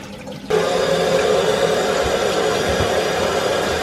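Water gushes steadily over salted cabbage being rinsed for kimchi. It starts abruptly after a quiet half-second, then runs as a loud, close, continuous rush with faint handling sounds beneath it.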